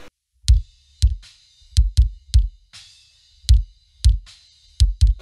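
A synthesized metal kick drum processed through a Vintage Opto compressor hits about a dozen times in an uneven pattern, each thump punchy and clicky with a bright attack and short decay, alone and fairly loud.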